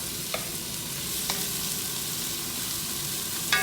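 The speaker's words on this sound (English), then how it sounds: "Give it all a good stir." Peppers fry in oil in a pan alongside salted vegetables for a chunky steak chilli, producing a constant close sizzle broken by a few sharp scraping stirs.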